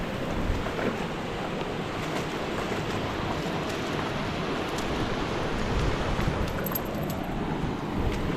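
A small creek spills into a deep, crystal-clear, ice-cold pool beside a gravel bar, making a steady, broad rushing and burbling water noise that holds evenly throughout with no voices.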